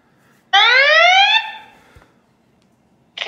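A loud electronic alarm tone from a YoLink SpeakerHub, triggered by a water leak detector dropped in a bowl of water, rises in pitch for about a second, then cuts off; a second burst begins just as the sound ends.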